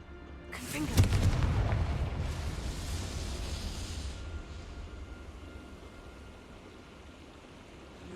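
A Confringo blast spell from Hogwarts Legacy erupts in one loud boom, then a long rumbling tail slowly fades over several seconds.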